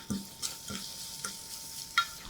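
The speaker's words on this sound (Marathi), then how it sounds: "हा ठेचा घातलेला लसूण मिरचीचा ठेचा चांगला दोन मिनिटं परतायचा" Onion cooking in a pan with garlic-chilli thecha and turmeric, stirred with a spoon: a few distinct scraping stir strokes over a soft, steady sizzle, close and fairly quiet, with no talking.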